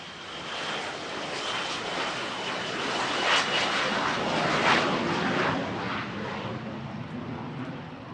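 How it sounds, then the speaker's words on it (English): A de Havilland Vampire T-55 jet flies past at a warbird air show at Scone, a steady loud roaring whoosh that swells and holds throughout with no one speaking. "The latest aircraft to join Paul Bennet's fleet is this de Havilland Vampire T-55"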